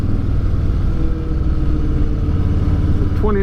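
A 2019 Harley Davidson Low Rider with the 107 engine rides through corners, its deep engine rumble steady and close, rising slightly in pitch near the end as the rider powers out.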